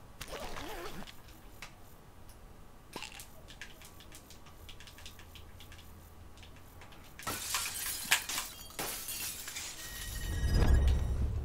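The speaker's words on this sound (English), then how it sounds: "Did that glass break on its own, or did someone shoot?" Glass shatters during a Call of Duty Black Ops 4 Blackout match, a few sharp cracks and breaking bursts near the middle and end over quiet background noise, followed by a loud low thump.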